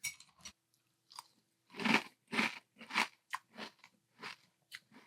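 Crunchy Friends vanilla bean latte cereal in milk being chewed up close, a series of sharp separate crunches in an uneven rhythm with quiet pauses between bites.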